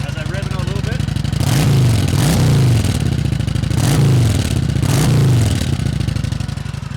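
Kawasaki Vulcan Classic cruiser motorcycle with dual exhaust revving up several times from a rumbling idle, each rise and fall loud and close, with a voice heard over parts of it.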